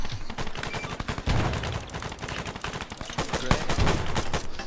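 Dense firefight in a military video game with heavy fire coming from the east, a rapid continuous stream of overlapping gunshots and bursts, loud and sustained throughout.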